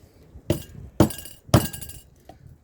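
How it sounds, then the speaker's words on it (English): A Holley 4160 four-barrel carburetor being beaten on during teardown: three sharp, loud metallic strikes about half a second apart, then one much fainter tap, with quiet between. "Don't necessarily advocate beating on a carburetor, but sometimes you gotta do what you gotta do."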